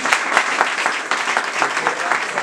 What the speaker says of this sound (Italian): Quindi io qui farei partire un applauso.